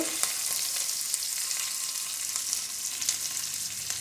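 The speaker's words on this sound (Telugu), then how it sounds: "పచ్చిమిర్చి వేసుకోవాలి, అల్లం ముక్కలు, ఉల్లిగడ్డ ముక్కలు, తర్వాత కరివేపాకు" Green chillies, ginger, onion and curry leaves frying in hot oil for semiya upma, a steady close sizzle with faint crackles throughout and no voices.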